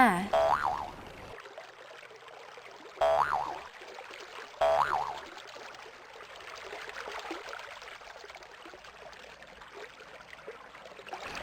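Cartoon boing effects for a hopping rabbit in a children's story sound three times, spaced apart and loud, over a soft flowing-water background.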